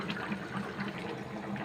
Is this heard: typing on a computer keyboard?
no